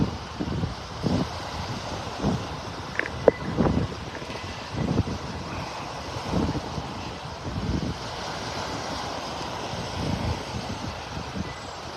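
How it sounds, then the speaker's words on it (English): Strong wind roars across a beach in North Naples, Florida, a constant loud rush buffeting the microphone with repeated low gusts, with no one speaking. "So darn windy."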